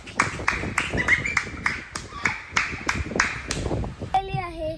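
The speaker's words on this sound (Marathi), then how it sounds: "धीरे टाळ्या वाजव, टाळ्या वाजव" A child claps their hands in a steady run of about a dozen claps, close by, while children talk.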